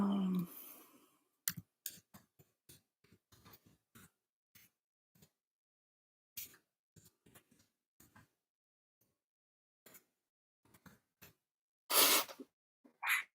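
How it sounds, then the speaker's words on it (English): Keyboard typing during a live outdoors stream, with scattered quiet clicks and short bursts of key taps separated by pauses, close and faint with little else around. "I'll type it in right here for you."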